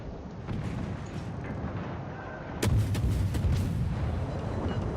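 Warship cannons firing in the War of War Ship naval video game, a loud booming blast suddenly erupting midway over a rumbling background of continuous battle noise.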